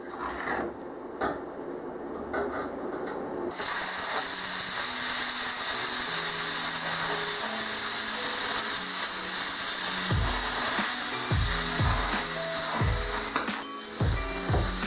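A cheap 50 amp plasma cutter slicing 16 gauge steel gives a loud, steady hissing roar after a quieter start, with thumps and clanks near the end of the cut.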